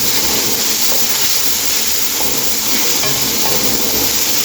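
Green chilies frying in a pot with a loud, steady hiss and sizzle of hot oil, dense and continuous at close range with no breaks and no talking.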